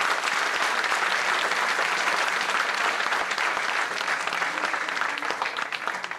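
A large audience applauds a dance teacher, Zoi Karavela, after a performance at a Greek athletics awards ceremony, with loud, sustained, dense clapping that fades slightly toward the end.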